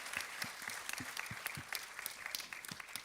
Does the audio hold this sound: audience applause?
yes